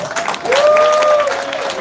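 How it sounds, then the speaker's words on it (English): Crowd applause at a press event after a boxing knockout fight, brief scattered clapping with a rising whistle-like tone and voices talking over it. "Big round of applause."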